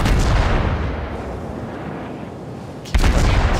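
Naval cruiser gunfire from a Tier 6 Soviet Budyonny heavy cruiser in World of Warships, a loud rolling boom fading into a long rumble, then a fresh sharp blast near the end.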